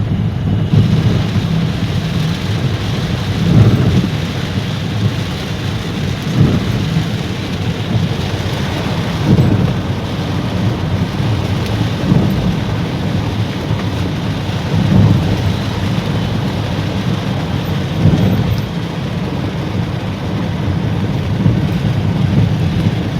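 Steady heavy rain pours without pause, with low rumbles of thunder rolling in every few seconds and some wind buffeting.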